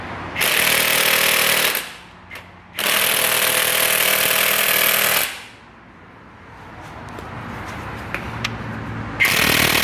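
An Ingersoll Rand 7152 cordless impact wrench working on the crankshaft pulley bolt of a 2002 Honda Accord, giving two long, loud, close hammering bursts, a short clack between them and another burst starting at the end.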